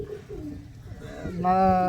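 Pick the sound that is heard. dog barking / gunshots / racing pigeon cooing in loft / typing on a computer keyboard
racing pigeon cooing in loft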